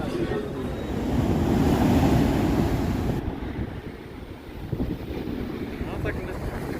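Ocean waves wash onto the beach at Cannes, a broad rushing surge that swells and then recedes, heavy with wind buffeting the microphone, with a person talking faintly at times.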